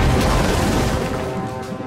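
Enormous bronze royal cannon, barrel about 10 meters long and 20 centimeters thick, firing a deafening blast: one dense, booming roar that fills the clip and slowly fades, loud and close.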